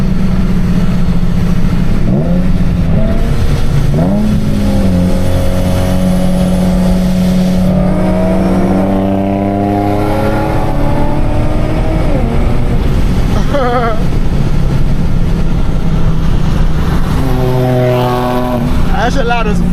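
A boosted Nissan 350Z engine at a car meet, loud and close, revving in repeated rising pulls that climb and fall, with people talking and shouting over it throughout.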